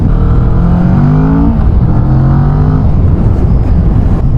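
A Kawasaki Vulcan S motorcycle accelerates out of a corner, its engine note climbing steadily and loudly in pitch, then settling into a sustained drone with wind noise throughout.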